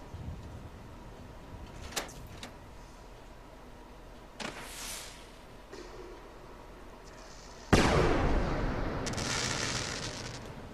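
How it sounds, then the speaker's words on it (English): Fireworks go off in a video game: a few sharp bursts spaced apart, the last and loudest followed by a long crackling fizzle, with no talk. "Now for some fireworks."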